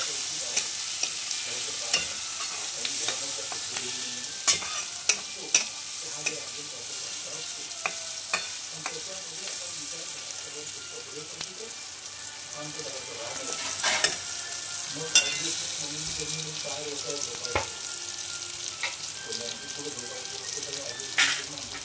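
Shev bhaji mixture with coriander powder frying in a pan: soft continuous sizzling and scraping stir strokes, with occasional sharp clinks of a spoon against the pan.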